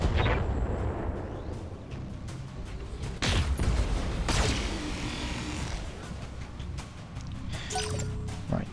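Weapons fire and explosions from mechs in the BattleTech video game, including PPC and medium laser shots against a Shadowhawk, rumbling as a dense, continuous barrage with a few sharper blasts standing out, loud and close throughout.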